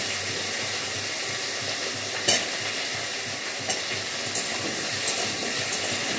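Potatoes frying in a pan for a Bengali fish curry with eggplant, giving a loud, continuous close sizzle with occasional stirring clicks and no talking.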